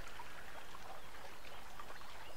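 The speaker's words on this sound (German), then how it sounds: "Mh, lecker, ein Fluss aus Himbeergelee." A flowing river of raspberry jelly in the video game Alice: Madness Returns runs with a steady, quiet trickling and babbling stream of liquid, continuous and soft throughout, with no voices.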